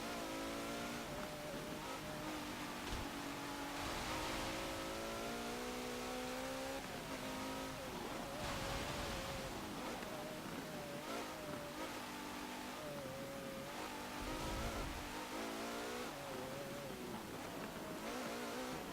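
Engine of a 2017 Maserati Levante S in Forza Motorsport 7, tuned to extreme power, revving hard and continuously through gear changes and surges, loud and close with no talk over it.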